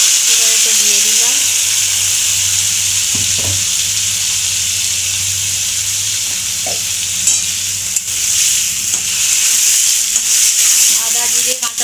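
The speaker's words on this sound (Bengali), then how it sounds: "এইতে আমি আদা, জিরে, কাঁচা লঙ্কা, টমেটো পেস্ট করে নিয়েছি, এবার এতে দিয়ে দিলাম" Ginger, cumin, green chilli and tomato paste fry in a pan for a fish curry, giving a loud, continuous sizzle with occasional stirring clatter and brief, faint voice sounds.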